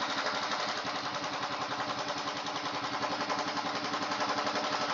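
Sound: Royal Enfield Himalayan engine running at raised RPM during carburetor tuning

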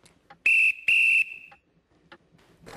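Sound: toy train engine whistle

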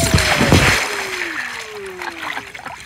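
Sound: splash going down a water slide into a pool

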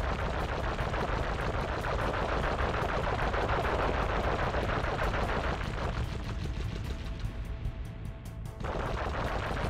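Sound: gunfire from shooting in the video game Sly Cooper

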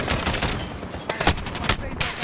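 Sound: gunfire in Call of Duty Modern Warfare video game

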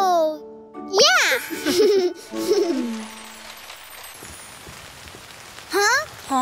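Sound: rain falling

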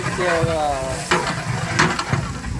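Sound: grated fresh coconut being stir-fried in a pan

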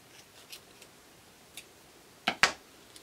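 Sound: scissors cutting excess pipe cleaner

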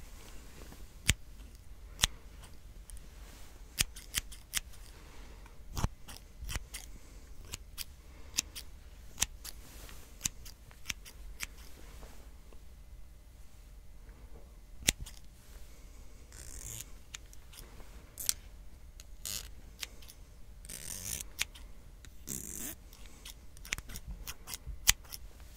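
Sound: scissors trimming hair in ASMR haircut

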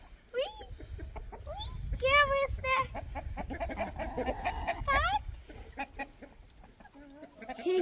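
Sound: rooster and chickens clucking while being fed

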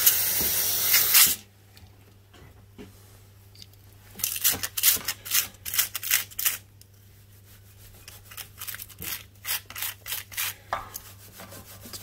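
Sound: aerosol cleaner spraying

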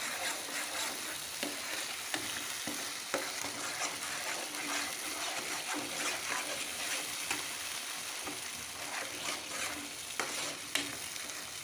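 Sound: stirring curry with chilli powder in a pan

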